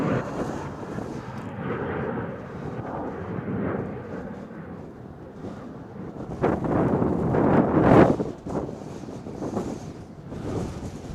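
A Delta airliner passing on a cold, windy day at Cincinnati/Northern Kentucky International Airport: a low engine rumble buried in gusting wind buffeting the microphone, swelling to a louder surge before easing off.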